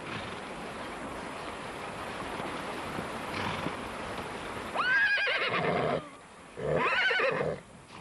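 Mongolian horse whinnying twice, loud and near, each call a rising then quavering neigh over a soft, constant rushing background.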